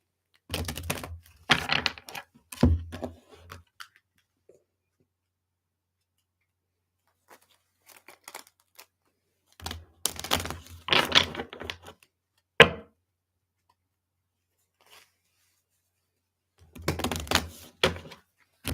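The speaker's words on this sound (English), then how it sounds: "I will shuffle my deck, and we'll pull 5 cards for fire signs" A tarot deck is shuffled by hand in quick crisp bursts of card riffling and tapping, close up, separated by quiet pauses with no talk.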